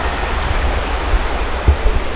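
A mountain river with a strong current rushes in Camarines Sur, Bicol, giving a loud, steady, close roar of flowing water with no talking.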